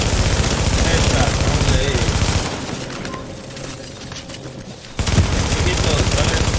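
Loud, dense automatic gunfire in The Division shooter game, rattling bursts that drop to a lull for a couple of seconds and then resume at full intensity.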